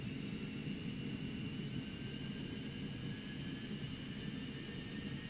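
Steady, continuous jet engine spool-up in a Cessna Citation Mustang flight simulator, a broad even roar with a faint high whine held constant throughout, no talk.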